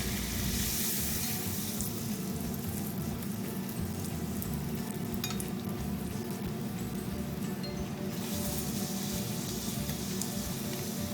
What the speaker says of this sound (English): Now same way we can fry all other puris.